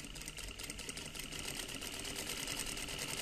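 Steady whirring hum of an SA-MQ4 sewing machine stitching light-to-medium fabric, running continuously at an even pace throughout, fairly quiet and close with no voices.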